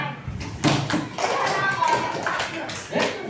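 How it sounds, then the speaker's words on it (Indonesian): Fourth-grade schoolchildren in an elementary school classroom break into a short burst of group clapping, with children's voices talking over and around it. "Sesuai, beri tepuk tangan"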